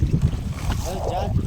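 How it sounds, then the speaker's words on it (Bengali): Strong gusty wind buffets the microphone on a Sundarbans river during fishing, with waves slapping around a small boat; rough low rumble throughout and a voice briefly heard. "খুব ঢেউ হচ্ছে কিন্তু প্রচণ্ড হাওয়া ভাই"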